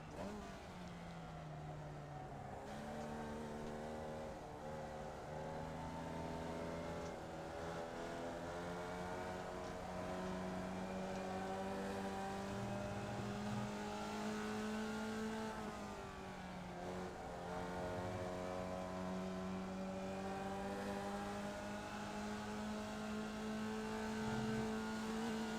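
Formula Vee race car engines in the iRacing simulator at Oran Park, a steady loud drone of several small engines with rising and falling pitch as they accelerate and shift, continuous throughout with no talking.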